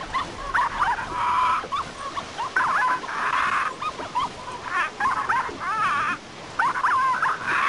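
Dog barking in the video game The Cave: repeated short yips and barks with whimpering tones, loud and close, coming in bursts across the whole stretch.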